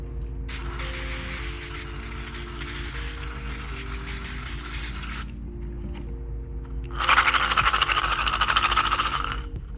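Brake cleaner sprayed into a Moroso oil pan for a Honda B16, two hissing aerosol bursts, a long one of about five seconds and a louder, shorter one, over a humming background.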